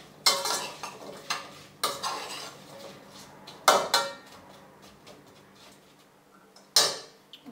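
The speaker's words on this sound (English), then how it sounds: "So I'll give these apples a stir around here." A utensil scrapes and knocks against a pot while apples and sugar are stirred. The clanks come in irregular bursts with quiet gaps between them, close by and with no talking.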